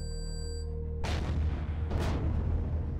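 Two heavy explosions in the space survival game Empyrion Galactic Survival as a base's core and generator are blown up, each a sudden loud booming burst that rolls into a long rumbling decay, the second about a second after the first.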